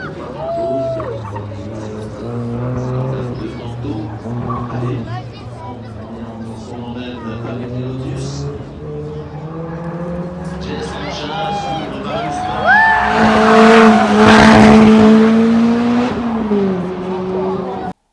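A 2ZZ-engined Lotus Elise 111R races an autocross course on a wet track, its engine droning steadily and climbing in pitch through gear changes, with a louder rising rev burst near the end while a voice talks over it.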